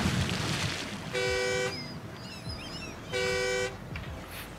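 A truck horn in the SnowRunner video game sounds two loud, even blasts about two seconds apart, each lasting roughly half a second, over faint background noise and soft electronic chirps.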